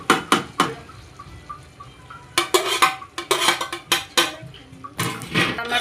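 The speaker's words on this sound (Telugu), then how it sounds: "పీల్చుకున్నాక టమాటాలు వేస్తున్నా చూడండి." Chopped tomatoes going into a pot of chicken being cooked, a run of sharp clinks and scrapes of a utensil against the pot in uneven bursts, with quieter stirring between.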